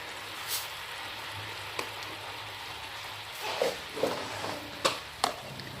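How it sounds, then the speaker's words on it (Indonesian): A steady sizzle of spices stir-frying in a pan for potato sambal goreng, with occasional scraping and tapping from stirring toward the end. "Masak sambil diaduk-aduk sampai bumbu menjadi matang sempurna."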